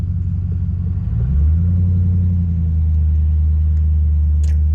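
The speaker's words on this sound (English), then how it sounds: "Give it some like baby revs." A car engine just after an oil change is given a gentle rev: a low steady idle rises smoothly in pitch, holds briefly, then settles back into a close, even rumble.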